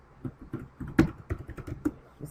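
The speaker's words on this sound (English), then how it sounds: "You see me typing down here?" Quick, soft typing on a computer keyboard, a short run of light irregular key taps at close range with no talk over it.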